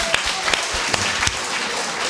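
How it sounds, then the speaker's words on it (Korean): A church congregation at a Friday prayer meeting breaks into applause, a loud, sustained burst of many hands clapping with a few sharper claps standing out near the start. "박수."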